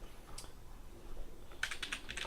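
Quick keystrokes rattle on a computer keyboard in a short, close burst of clicks after a brief pause, with no voices over them.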